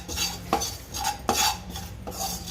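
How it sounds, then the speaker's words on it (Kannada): Cumin seeds roasting in a pan, with repeated metal scrapes and clinks of a spoon against the pan and a faint sizzle underneath, several distinct stirring strokes close by. "ಜೀರಿಗೆ ಒಂದು ಸ್ವಲ್ಪ ಹುರ್ಕೋತೇನೆ."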